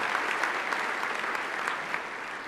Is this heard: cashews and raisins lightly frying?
no